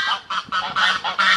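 Geese honk repeatedly at a park, a series of loud nasal calls in a broken rhythm, close by and with no one talking.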